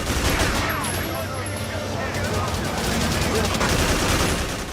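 Gunfire in Haze on PS3 during a landcarrier assault: continuous rapid automatic fire, loud and close, rattling without a break for several seconds.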